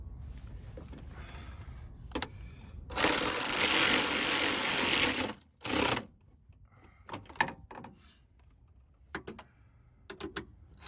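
A vehicle engine cranks after a battery replacement, a loud grinding crank lasting about two seconds followed by a short second burst, then faint clicks and mechanical ticks in otherwise quiet surroundings.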